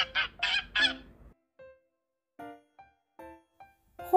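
Several loud, harsh goose honks in a quick burst, then quieter, more distant honks spaced out, ending with another loud call.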